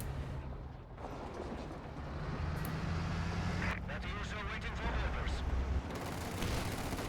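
Scott self-propelled guns fire a barrage in Company of Heroes 2 during a 2v2 tournament match: a steady roar of artillery and gunfire with sharp bursts, while a commentator talks over it.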